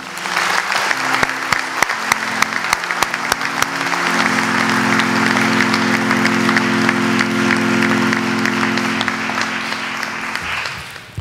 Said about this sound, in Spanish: Un aplauso para todos y enhorabuena